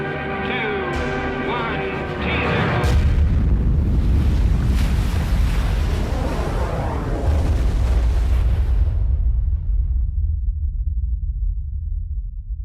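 A thermonuclear bomb test explosion rolls out as a deep, roaring rumble with wind-like buffeting, loud and sustained for several seconds after a sharp onset, then cutting off abruptly.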